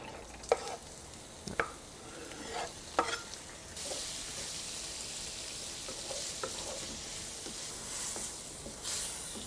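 Crushed garlic frying in a pan for tomato-steamed mussels, a faint sizzle with a few sharp utensil knocks early on, then a steadier, brighter hiss from about four seconds, with no speech.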